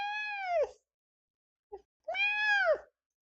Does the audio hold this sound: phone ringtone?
no